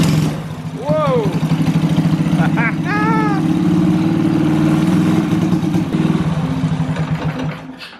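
A long-idle Ski-Doo Mini-Z snowmobile engine runs roughly in a steady, loud mid-pitched drone with uneven throttle surges, while a voice exclaims over it and tapers off near the end.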